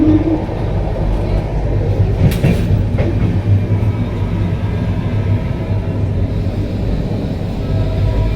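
Steady, loud rumble and rattle of a train from Delhi toward Nainital rolling along the rails, a continuous low roar with faint clacking throughout.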